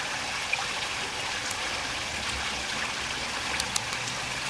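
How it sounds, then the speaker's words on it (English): A creek flows with a steady, gentle rush of water. The sound is soft and continuous, with faint ticks and splashes and no voices. "See how long you can stand listening to the water"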